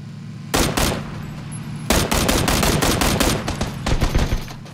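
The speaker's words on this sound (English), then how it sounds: "there's another one shooting" In the battle royale game PUBG, another player fires rapid automatic gunfire: a loud burst, a short pause, then a longer run of sharp repeated shots that trails off.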